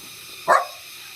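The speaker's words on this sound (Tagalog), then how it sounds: "Sundan ako ng mga aso." A single sharp dog bark sounds close by, brief and loud against a quiet outdoor background.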